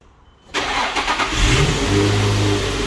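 After a brief quiet moment, an Infiniti G35 engine fitted with a Z1 intake fires up and revs, then settles into a loud, rumbling idle close by.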